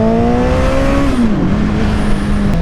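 A 2014 Honda CBR1000RR motorcycle engine revs loud and close, holding a steady high drone before the pitch dips briefly and settles again, with no voices over it.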